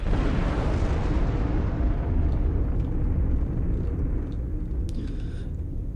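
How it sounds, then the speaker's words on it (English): A heavy incoming round detonates in the sci-fi strategy game Planetary Annihilation, a loud, sustained low rumbling blast that fills the whole stretch and slowly fades, with a few faint crackles near the end. "So it wasn't too long until the next round flew in. Here it comes now. Kaboom!"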